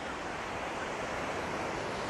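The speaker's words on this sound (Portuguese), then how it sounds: "A onda não veio tão grande." Ocean surf rolling onto a beach where a dog is learning to surf, a continuous broad rushing wash of breaking waves with some wind noise, steady and unbroken.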